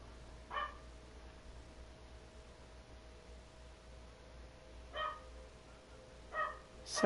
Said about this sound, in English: Sorry if you can hear my dog barking.